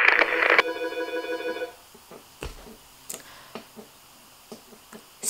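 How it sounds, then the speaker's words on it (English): A telephone rings indoors, a bright, steady burst of ringing for about a second and a half, followed by quiet room sounds and a few faint clicks and knocks. "So yes, the phone."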